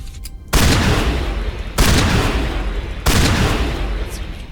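Gunfire in the Mass Effect Legendary Edition video game: three heavy bursts of weapon fire about 1.3 seconds apart, each a loud boom trailing into rumbling decay.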